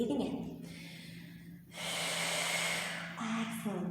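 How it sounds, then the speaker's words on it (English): A slow, audible inhale during a yoga class, a soft breathy rush after a brief spoken cue, close and fairly quiet. "Breathing in."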